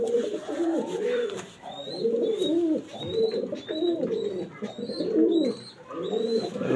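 A Mysore pigeon in a loft coos close by in repeated rolling bursts, with thin high chirps breaking in between the calls.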